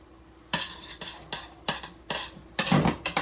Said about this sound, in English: We're gonna mix it around, get the oil spread out